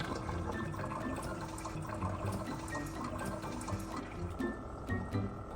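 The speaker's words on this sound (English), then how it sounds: "she accidentally let the water overflow, spilling all over the table and dripping onto the floor" Water overflowing from a tap pours steadily and splashes onto a tiled floor in a continuous close rush, with scattered drips standing out near the end.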